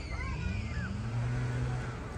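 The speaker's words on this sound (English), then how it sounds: "blower is making so much noise" An outdoor blower runs as a steady, droning hum near Horseshoe Bay, with faint voices in the background.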